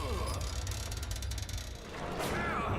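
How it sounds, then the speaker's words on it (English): A lever in the horror game The Evil Within is turned, a steady mechanical ratcheting and grinding of gears that runs for a few seconds, loud against a low droning game ambience, with a voice speaking. "So just turn this lever"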